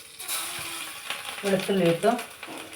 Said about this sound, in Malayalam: ഇനി ഇതിലേക്ക് നമുക്ക് വെളുത്തുള്ളി ഇട്ട് കൊടുക്കാം.